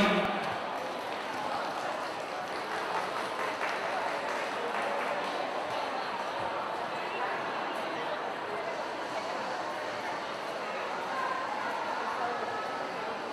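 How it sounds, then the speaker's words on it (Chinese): Sustained audience applause welcomes a Yi ethnic minority dance performance at a US Independence Day celebration, a dense, steady clatter of clapping that continues at even loudness for the whole stretch. "大家掌声欢迎。"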